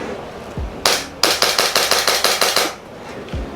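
SRC 19X airsoft gas blowback pistol firing a rapid string of about ten sharp, loud cracks close by, each with a quick metallic slide clack, preceded by one isolated shot and followed by quiet handling noise.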